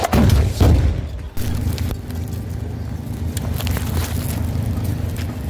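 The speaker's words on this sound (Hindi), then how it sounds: "और इस हमले के बाद अल कासिम का एक और लड़ाका आईडीएफ के मिरकावा टैंक को उड़ा देता है, जिसके बाद जबरदस्त गोलीबारी की आवाज सुनाई देती है" Heavy gunfire follows a rocket attack on an IDF Merkava tank in Gaza: loud, booming bursts at the start give way to a rumbling, noisy outdoor background with faint sharper cracks.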